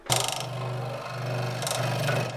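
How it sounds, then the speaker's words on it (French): Wood being sanded to straighten it gives a rapid, rasping buzz in two close bursts with a steady mechanical hum between them. "On va le poncer, comme ça, ce sera plus droit."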